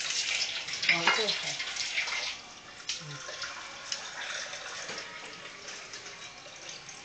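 Water poured into a cooking pan while making a Filipino milkfish (bangus) dish with vinegar, a steady splashing wash lasting several seconds under a speaking voice.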